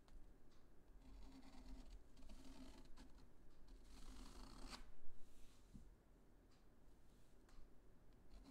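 Pen nib scratching across paper as tree branches are drawn, a soft continuous close-up scratching with short strokes and pauses, fairly quiet.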